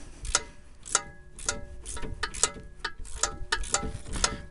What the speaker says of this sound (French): moi, je travaille beaucoup avec le 3/8 en cliquet.